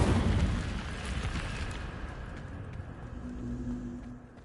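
An Incendio fire spell bursts in Hogwarts Legacy, a loud whooshing blast of flame that roars at the start and then slowly fades into a low crackling rumble.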